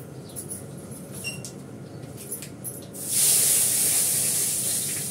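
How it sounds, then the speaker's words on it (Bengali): Cumin seeds and a bay leaf hit hot oil in a pan and burst into a loud, steady close sizzle, preceded by light clinks and faint kitchen handling sounds. "জিরে ফোড়ন দিলাম, তেজপাতা"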